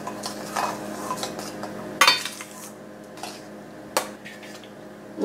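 A spoon scrapes and clinks against a pan while wheat rava upma is stirred, with irregular metallic knocks and soft gritty mixing sounds at close range.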